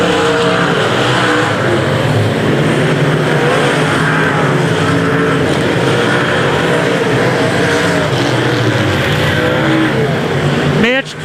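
Race cars lap the track at the John Kuntz Memorial race, a dense, continuous roar of engines droning loud and close throughout, with a faint tire squeal near the end.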